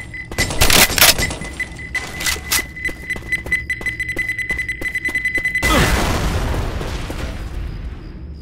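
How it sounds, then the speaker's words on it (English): A pipe bomb in Left 4 Dead 2 beeps in a rapid, quickening series of sharp chirps, then bursts into a loud booming explosion whose rumble slowly decays. "Pipe bomb out!"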